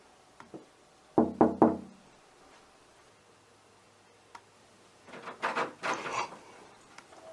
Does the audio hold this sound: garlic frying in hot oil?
no